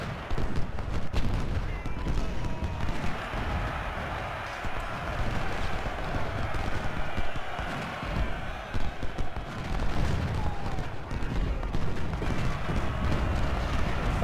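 Civil War artillery booms across a battlefield at Thoroughfare Gap in a strategy game, a dense, rumbling barrage of overlapping cannon shots and crackling fire that swells and settles repeatedly without pause.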